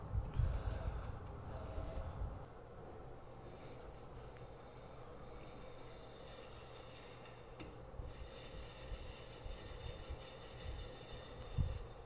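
A metal lathe takes a very light skim cut on a grinding wheel arbor nut, giving a faint, steady machine whir with a low rumble and a few louder clunks near the start and the end.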